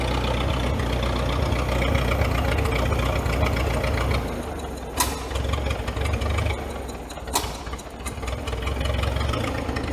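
Engine of a CAT Towmotor forklift, left sitting for years, running in a steady low rumble throughout, with the idle dipping slightly midway and two brief sharp clicks or bangs over the drone.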